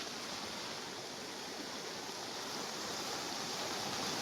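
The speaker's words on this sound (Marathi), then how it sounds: "हा बघा किती पाण्याचा प्रवाह आहे बघा" Fast-flowing floodwater from monsoon rain in Aarey rushes in a loud, constant roar close by, with no voices.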